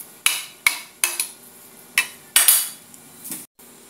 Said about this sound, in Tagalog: habang hinahalo ko at ilalagay ko sa isang lalagyan